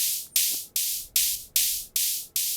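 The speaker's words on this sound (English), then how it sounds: "a cymbal that sounds somewhere in between a crash and the ride to keep the beat." A washy, hissing cymbal struck in a steady beat, each hit sustaining and fading before the next, somewhere between a crash and a ride.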